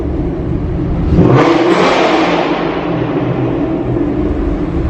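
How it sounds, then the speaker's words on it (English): A 2016 Mustang GT fitted with Flux headers and a Corsa exhaust revs hard and loud, its roar swelling sharply after the first second and then holding a sustained, rumbling drone. "I love a loud car."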